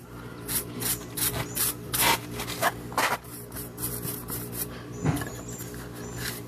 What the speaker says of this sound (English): we still got to brush it too, because it'll be rough too